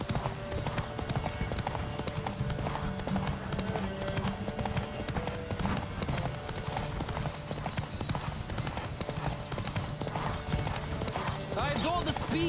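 A horse gallops in The Witcher 3, with continuous rapid clip-clop hoofbeats close by, an occasional whinny and someone talking over it.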